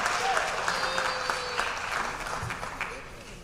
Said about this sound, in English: Let's give a round of applause for our varsity field hockey team